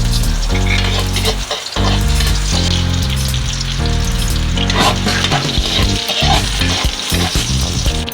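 Garlic dropped into hot oil for an adobo sauté hisses into a loud, dense, continuous sizzle close up, with clattering utensil noises and background music running underneath.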